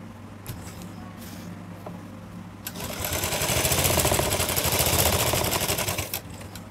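A sewing machine stitches along the folded inner edge of a front pleated blouse. After a quiet start, a dense, rapid mechanical chatter runs loud and close for about three and a half seconds, then stops.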